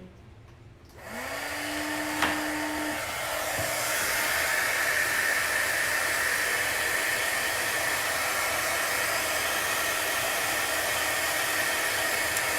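A craft heat tool switches on with a click and runs as a loud, steady, hissing whoosh that continues without a break.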